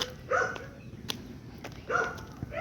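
Pet dogs barking in short bursts, two clear barks about a second and a half apart at moderate distance, outdoors on a morning walk, with faint background noise and no talk.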